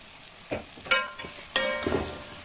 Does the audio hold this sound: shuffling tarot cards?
no